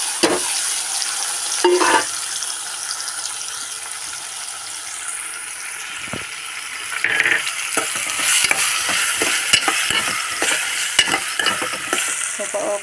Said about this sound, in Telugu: ఆయిల్ హీట్ అయిపోయిందండి ఇప్పుడు దోసకాయ ముక్కలు వేసేసుకోవాలి